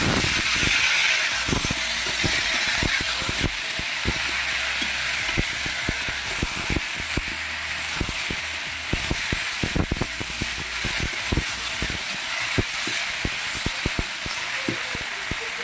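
Spices and other curry ingredients for a kangla fish curry sizzle and crackle steadily in hot oil, with many sharp pops and spits over a constant frying hiss, close and fairly loud.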